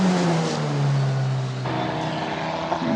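Formula Regional European Championship race cars climbing the hill at Mugello Circuit during qualifying, high-pitched engines whining and shifting as they pass, loud and continuous with a gear change partway through.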